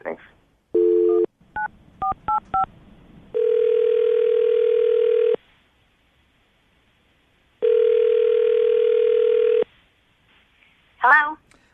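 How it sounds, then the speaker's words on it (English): A phone line plays dial tone, a quick series of keypad beeps, then two long ringback tones separated by silence, ending with a brief voice. "I'm going to call her right now, get her on the phone."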